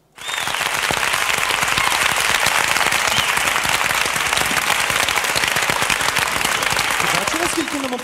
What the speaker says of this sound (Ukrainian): а ти чув, як нам довго люди аплодували?